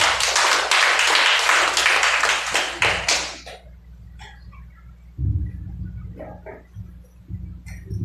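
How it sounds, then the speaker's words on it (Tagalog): A church congregation claps during a Sunday worship service. A dense burst of many hands lasts about three seconds, then trails off into scattered claps over a low, steady hum. "Sige pa, palakpak sa Panginoon."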